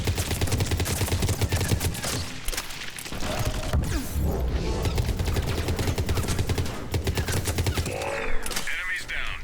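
Dense, near-continuous gunfire fills a Mass Effect 3 multiplayer battle, with rapid bursts and overlapping shots under occasional in-game voice callouts.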